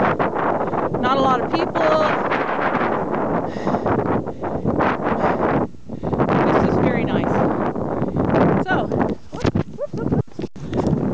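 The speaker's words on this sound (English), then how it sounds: "nice wind blowing, you can probably hear it" Wind rushes steadily across the microphone during a bike ride on the Sacramento River Trail, running between Keswick Boat Ramp and Shasta Dam. Someone talks throughout over the constant roar.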